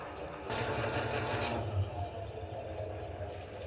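Honey extractor spinning frames, a close continuous mechanical whir and rumble with a faint rattle as the drum turns, steady throughout.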